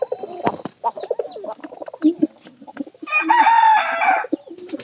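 Pigeons cooing close by in a loft with young squabs, repeated throaty coos followed by a longer sustained call near the end, with other birds chirping faintly.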